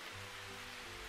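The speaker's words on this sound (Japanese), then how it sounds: "雨だ！ すごい勢い！" Heavy rain pours in a video game scene, a steady dense hiss of downpour with no voices, holding at an even, fairly loud level throughout a short stretch.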